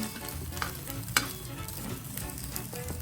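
Eggplant pieces fry quietly without oil in a nonstick Teflon pan, soft sizzling broken by a few stirring scrapes and taps of a utensil.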